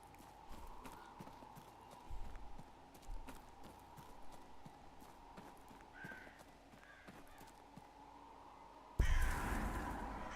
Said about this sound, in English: Bunch of crows.